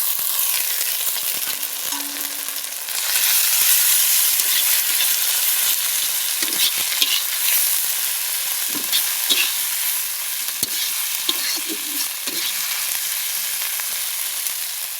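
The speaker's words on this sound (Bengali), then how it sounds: "আদা রসুনটা খুব ভালো করে কষিয়ে নেব" Ginger garlic paste being fried with tomato and onion in a pan, a loud continuous hiss of frying with intermittent stirring scrapes throughout, no speech.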